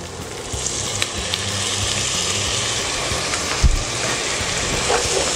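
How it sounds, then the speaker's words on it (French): White wine hitting a hot pan to deglaze in a Thermomix recipe, giving a steady close sizzle with a few small pops and clicks throughout. "on va déglacer avec 30 g de vin blanc"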